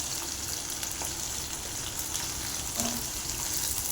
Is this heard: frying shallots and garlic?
yes